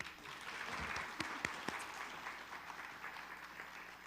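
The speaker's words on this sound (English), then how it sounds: "Give them another huge round of applause." An audience applauds panelists at the close of a panel discussion, sustained clapping with a few sharper individual claps standing out early, fading slightly toward the end, with no talk over it.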